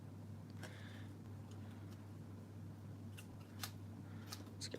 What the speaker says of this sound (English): I'm just going to come in and do some fussy cutting